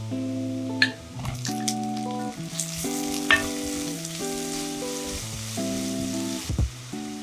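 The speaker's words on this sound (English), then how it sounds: "Cook garlic and ginger till golden brown" Garlic and ginger fry in a pan with a steady sizzle and occasional crackles and stirring scrapes, all playing under soft background music.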